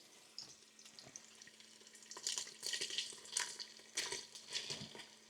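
Bacon, chopped red onion and vegetables sautéing in a pan, soft hissing and crackling bursts with faint stirring, quiet and close, growing a little busier toward the end.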